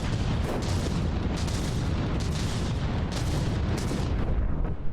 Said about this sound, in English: The shells keep popping in, but too many turrets are still alive.